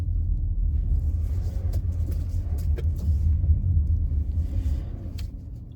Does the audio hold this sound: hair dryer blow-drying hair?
no